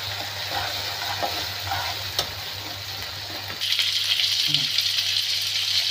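Chopped tomato frying with ginger garlic paste in a pan for a kakdi aloo sabzi, a steady sizzle with stirring that grows louder and brighter partway through.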